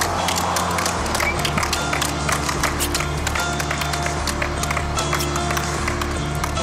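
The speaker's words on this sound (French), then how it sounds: "et on applaudit les amoureux." Wedding guests in a Las Vegas chapel clap for the newlyweds, a steady patter of applause over a low music bed.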